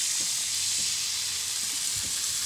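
A soy sauce mixture sizzles in a hot pan while tilapia cooks, a steady close hiss of frying with faint soft bubbling pops beneath.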